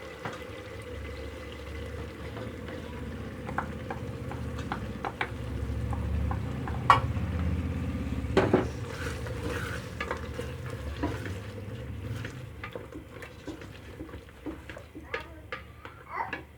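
Onion and tomato masala sizzles steadily in a pan as whisked yogurt goes in, with a constant close frying hiss broken by sharp stirring knocks and scrapes of a spoon against the pot.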